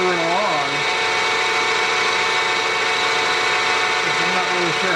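A lathe works on a chuck backing plate, its motor humming steadily nearby with a faint cutting whine on top, while a voice talks briefly at the start and end.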